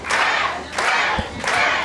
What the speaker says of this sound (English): Hear the crowd getting behind Ash here.